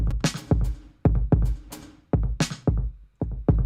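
A dry drum kit playing a punchy groove with no stereo widening: sharp kick and snare hits land in a steady rhythm with cymbal wash on top, close and loud, and no voices.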